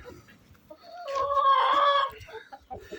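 Free-range chickens cluck nearby, with one bird giving a louder drawn-out crowing call in the middle, set against quiet farmyard background sounds.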